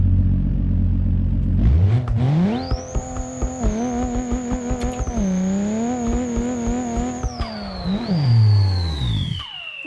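A boosted Holden VL or VN with a 427 rear end and about 900 horsepower, driven in BeamNG.Drive, revs up hard from idle into a loud sustained high-rpm scream, with a turbo whine, tire chirps and a final rev drop.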